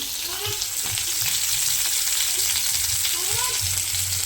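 Onion fries in about two ladles of oil in a home kitchen pan, giving a loud, continuous close sizzle with occasional soft stirring clinks and no talking.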